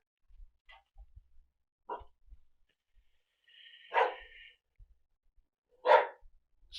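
In the video game Modern Warfare 2, dogs bark in sharp single yelps spread over several seconds, moderately loud against a quiet background with faint low thumps.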